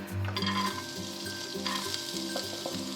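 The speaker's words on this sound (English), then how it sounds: "So let's saute the vegetables" Garlic and vegetables sauté in hot oil in a pan, a close, steady sizzle broken by short stirring scrapes.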